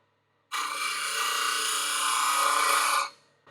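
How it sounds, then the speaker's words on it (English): A steel chisel edge is ground on a grinder, a continuous high, harsh grinding whine lasting about two and a half seconds, close and loud, starting and stopping abruptly. "you've got to start over and grind all of that heated metal out"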